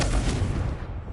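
The Confringo blasting spell in Hogwarts Legacy erupts as a loud, close, rumbling blast that fills the moment and fades slightly toward the end, with no voice over it.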